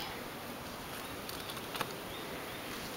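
Honeybees from a hive being installed, a few bees with their queen in a small cage, make a faint, steady outdoor hum with a couple of slightly louder buzzing passes near the microphone.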